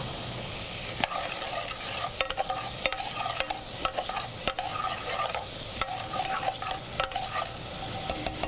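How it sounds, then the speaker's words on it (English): Shallots and thyme cooking in butter in a pot give a steady, close sizzle and fry, broken by scattered sharp clicks and scrapes of stirring, with no talking. "So we've scraped our shallots and our thyme into the pot."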